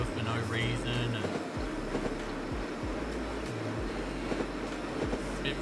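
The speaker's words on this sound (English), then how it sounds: "The train's crossing over for no reason." A train runs along track in the Train World video game, with a low rumbling drone, repeated rhythmic clacks and a few higher tonal hoots, steady and fairly loud throughout.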